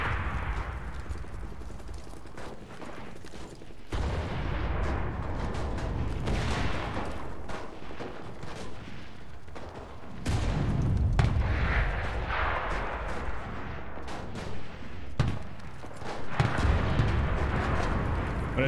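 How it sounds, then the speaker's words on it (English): Gunfire fills a World War II battle in the shooter game Enlisted: steady rattling bursts and distant booming shots churn on throughout, growing denser and louder about halfway through, with no one speaking. "Somebody is firing at me."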